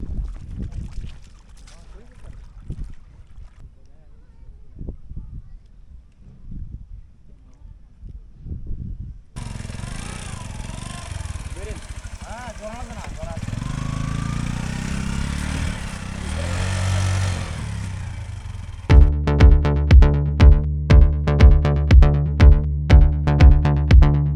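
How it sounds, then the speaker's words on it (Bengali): A motor trawler boat approaches a river crossing on the Someshwari River, its engine thumping in a steady, loud rhythmic chug that grows stronger after quieter ambient and broadband noise. "অবশেষে যে ট্রলার আসতেছে।"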